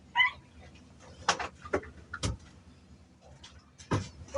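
A rescue dog lets out a few faint, sharp yelps and whimpers at a distance, scattered irregularly over quiet room background.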